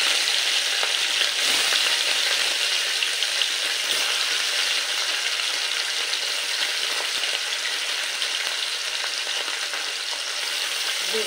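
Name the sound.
small piali fish frying in mustard oil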